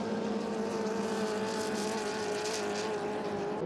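Hydroplane racing boats with 2.5-litre engines drone steadily through a race lap on the water at St-Félicien, a continuous loud motor roar with a slight rise and fall and no pauses.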